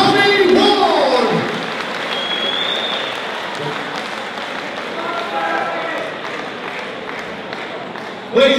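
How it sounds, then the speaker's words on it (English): Audience applause for a British super bantamweight boxing champion at a fight night, a loud burst of clapping and crowd noise that eases into a steady, sustained ovation before swelling again at the end. "Ladies and gentlemen, please give a round of applause."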